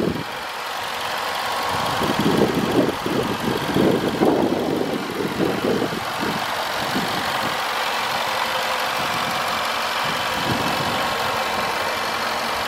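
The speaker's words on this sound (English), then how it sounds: "Absolutely astonishing engine." A supercharged 5.0-litre engine in a 2021 Range Rover Sport SVR runs steadily, a dense mid and low rumble that swells slightly early on and then holds an even, continuous drone with no talk.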